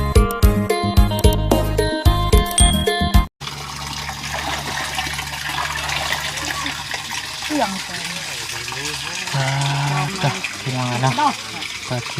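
Water flows and trickles steadily outdoors near Nong Thai, a continuous gurgling wash that follows a brief burst of music, with someone talking over it.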